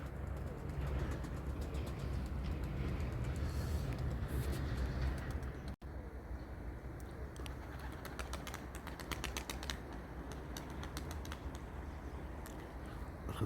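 Pigeons let out of their loft coo steadily close by, with bursts of rapid wing flapping and clattering layered over a constant low background hum.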